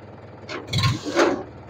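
A tractor engine runs with mechanical clunks and grinding as a gear is engaged, two short bursts of loud machine noise close by, no talk.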